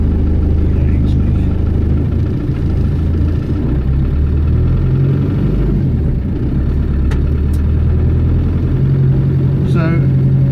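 1990 Range Rover engine idling loud and close, a steady rattly rumble from a cold start with a diesel injector pump, continuous for the whole stretch.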